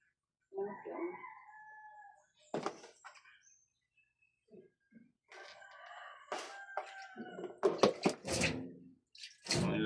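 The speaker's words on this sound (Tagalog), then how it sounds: "Manok yan." A rooster crows and chickens cluck around a seaside morning, the crows rising loud and near in bursts among quieter clucks, with faint dripping water and a murmur of talk in between.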